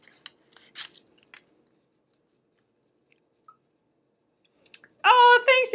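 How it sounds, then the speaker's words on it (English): Scissors cutting felt pieces for a unicorn craft, heard as a few faint, scattered snips and clicks with pauses between them, followed by a voice near the end. "I'm so happy that you guys like the scissors."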